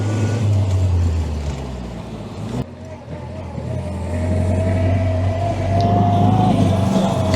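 A vintage 1925 Austin Seven driving on a winter road, its small engine droning loudly and steadily with rising and falling revs, with road noise close by throughout.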